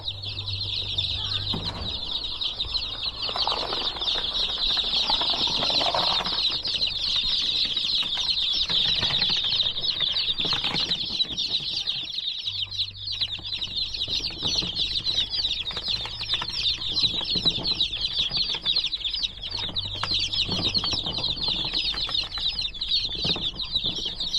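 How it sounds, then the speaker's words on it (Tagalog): A constant high chorus of chirping chicks and clucking hens, with occasional wing flaps and rustling, steady and close throughout. "lagyan na natin yung bago nating alagang manok"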